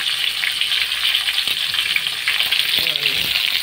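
Pancit canton noodles fry in a pan with a loud, continuous sizzling hiss, broken by a few stirring scrapes and clatters near the end.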